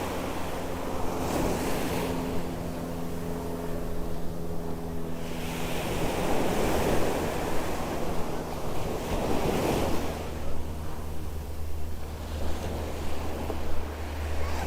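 Ocean waves crashing on a Miami beach, with repeated swells of surf rolling in every few seconds under steady wind buffeting the microphone, heard alone without talk.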